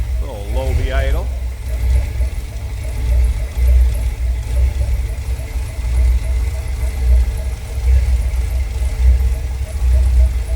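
A 1971 International pickup truck engine idles low and steady, a deep continuous rumble throughout, with a brief voice near the start.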